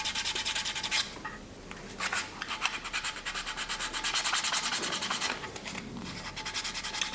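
End of a wooden guitar neck binding being sanded by hand, close rhythmic rasping strokes in fast repeated bursts with a short pause near the start, no voices.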